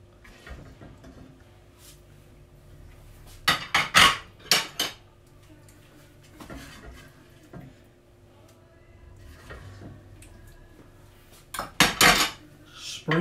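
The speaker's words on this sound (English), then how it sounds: "So, we're going to put the stew into a bowl." Cutlery and dishes clatter as beef stew is served into a bowl in a home kitchen, with sharp scattered clinks and scrapes in a few bursts between quieter stretches.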